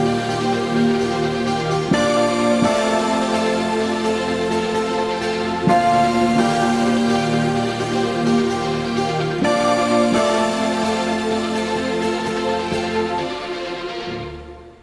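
Layered keyboard synth pads with dynamo granulation, a shimmering, grainy texture, swell over sustained chords, changing every few seconds and fading out at the end.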